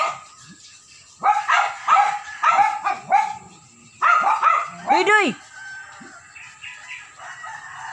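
A dog barks repeatedly nearby in quick clusters, with a brief howl-like yelp in the middle, then quieter background noise.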